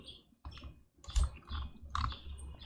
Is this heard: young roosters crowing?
no